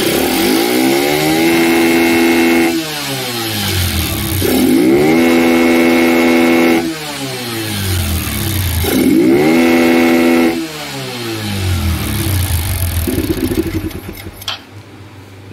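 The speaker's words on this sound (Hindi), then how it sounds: "अब गाड़ी प्रॉपर तरीके से स्टार्ट हो गई है, पूरी रेस ले रही है गाड़ी" A motorcycle running with its air filter removed after an engine overhaul, started and revved hard in repeated loud bursts that rise and fall roughly every few seconds, close and alone.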